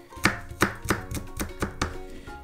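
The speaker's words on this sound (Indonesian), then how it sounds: "pertama-tama kita hancurkan dulu ya bawang putihnya ya. Kita cincang sih sebenarnya ya" Garlic is chopped with a knife on a board, a steady run of about seven sharp, close chops in an even rhythm, with no talking.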